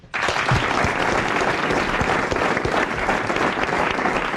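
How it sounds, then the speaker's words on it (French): A French radio-studio audience from 1993 breaks into applause for a quiz prize winner, starting abruptly and holding loud and steady throughout. "Nous l'applaudissons."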